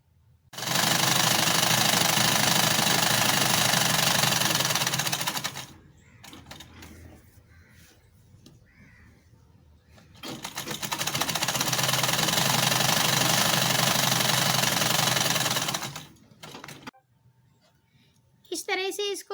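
Two long bursts of rapid machine stitching along the sides of a girl's top, each running several seconds. A short quiet pause with faint handling noises comes between them, and brief sounds return at the end.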